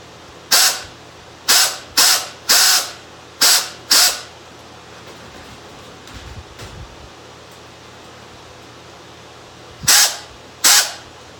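A nibbler or snips cut a sheet metal adapter plate for a central air filter housing, with eight sharp, crisp snaps: six in quick succession, a pause, then two more close by.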